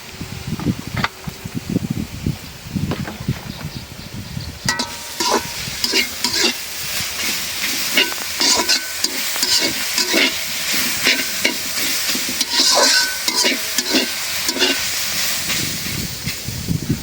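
Leafy greens fry in mustard oil in a pan after their water has cooked off. A steady loud sizzle is broken by repeated scraping stirs of a spatula.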